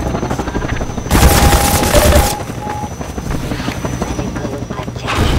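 Helicopter gunfire pounding a car in Half-Life 2: Episode 2, a dense, loud roar of rapid automatic fire lasting about a second, over a steady rotor drone and scattered impact booms.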